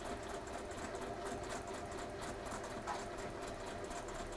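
A domestic sewing machine stitches fabric at a continuous even pace, its fast mechanical whirr steady and close for the whole stretch.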